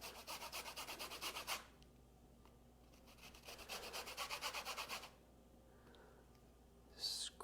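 A lemon's outer peel is scraped over a zester in two quiet bursts of quick, rhythmic rasping strokes, separated by a brief pause.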